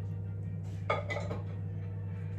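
Dishes clink and clatter briefly as they are loaded into a dishwasher at home, a short cluster of hard knocks over a steady low hum.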